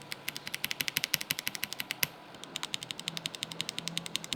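Rapid, steady typing on an Akko 5075 compact keyboard fitted with Akko purple switches, a dense run of crisp close-up keystrokes with a brief pause near the middle.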